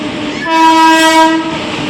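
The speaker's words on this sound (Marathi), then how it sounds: "ट्रेन आपल्या आता प्लॅटफॉर्मला लागले आहे" The Nagercoil–Gandhidham Express sounds its horn once, loud and close, one long blast over the rumble of the rail cars, arriving at a platform at Vasai Road station.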